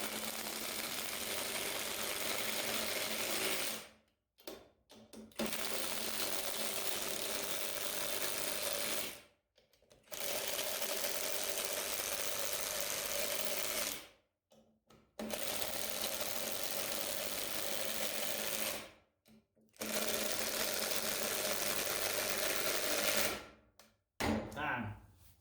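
Kimo 20V cordless drill with a hex tip driving, five long steady whirring runs of about four to five seconds each, separated by short pauses, close and loud.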